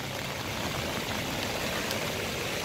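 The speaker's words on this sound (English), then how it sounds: "Here's a little better view of the water just rushing out." Flash-flood water gushing out after heavy rain near a barbecue competition site, a steady, loud broadband rush that fills the whole stretch without pause and with no voices.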